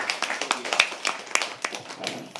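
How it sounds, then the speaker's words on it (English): Applause from an audience at a live poetry open mic, a scattered round of claps with uneven bursts that swell and fade over a couple of seconds, moderately close and mostly on its own. "Can we please have another impromptu round of a clap for him?"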